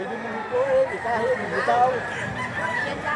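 Roosters crow and chickens cluck amid a busy crowd at a poultry market in Lipa City, Batangas, with several birds calling at once under steady nearby talk.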